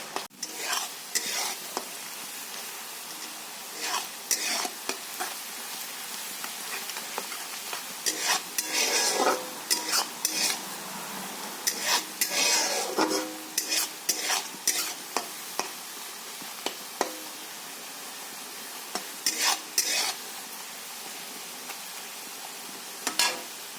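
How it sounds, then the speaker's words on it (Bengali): Onions fry in a pan for a potato chicken curry, a steady sizzle broken by repeated scraping and clinking of a spatula stirring against the metal. "এখানে আমার পেঁয়াজটা লাল লাল করে ভাজা হয়ে গেছে।"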